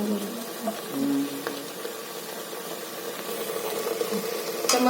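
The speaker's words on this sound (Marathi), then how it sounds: "मसाला झाला माझा फ्राय बघा तेल सोडवपर्यंत सुपेस्टपर्यंत असं हलवायला लागतो ना मसाला" Masala fries in oil for a black-eyed pea curry and is stirred continuously, producing a steady close sizzle with occasional scraping strokes and some faint background voice.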